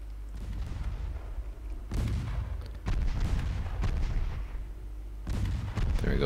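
Naval 3-inch guns firing in the Ultimate Admiral Dreadnoughts warship game, about four sharp booming shots spaced a second or two apart, each with a rumbling tail over quiet background noise.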